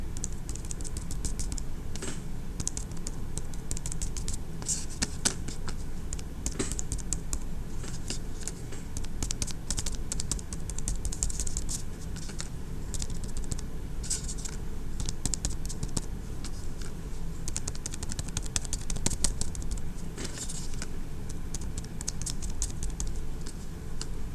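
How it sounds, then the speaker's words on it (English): A brush dotting red paint onto paper to build autumn tree clusters in an art lesson: rapid, steady, close-up tapping and patter that continues without a break. "We're just going to dot, dot, dot, dot, dot, dot, dot, dot, dot, dot, dot, dot, dot."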